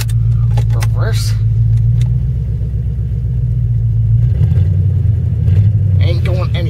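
A rebuilt Ford Crown Victoria engine idles with a deep, steady rumble up close, its tone shifting partway through as it is put into reverse, with brief voices over it.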